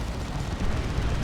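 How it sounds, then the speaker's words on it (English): Tank Buster Barrage explosions from Dawn of War 2, a dense, continuous rumble of booming blasts rolling together at steady loudness, with no gaps between hits. "Tank Buster Barrage"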